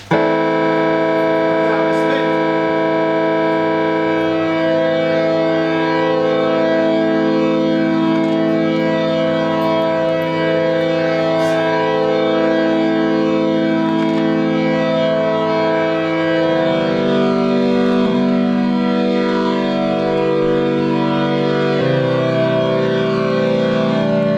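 A sustained organ-like chord through a large rotating Leslie speaker cabinet swirls with a steady, pulsing warble, the tone sweeping and fluttering continuously, loud and unbroken for a long stretch.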